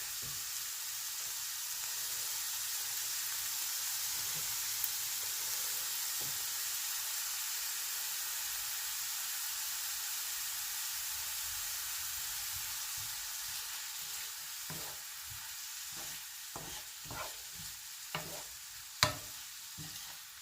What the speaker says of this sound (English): We just want to cook these over medium heat until the vegetables are soft but not browned.